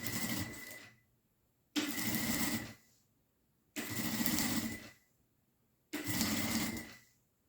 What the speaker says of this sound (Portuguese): Fiz uma costurinha na alça